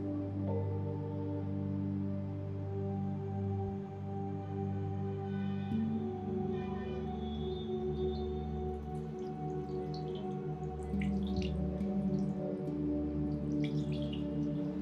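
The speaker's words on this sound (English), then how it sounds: "So this is my Tibetan bowl, my Kansa bowl, and I have filled the Kansa bowl with water right now." A Kansa (Tibetan) singing bowl half filled with water being played, sustained ringing tones humming steadily with shimmering overtones, plus faint droplet-like splashes from the water surface later on.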